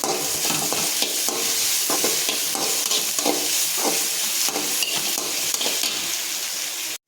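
Onion, ginger, garlic and green chilies sauté in a pan for potato kurma, a steady loud sizzle with repeated scraping stirs throughout, close and continuous with no talking.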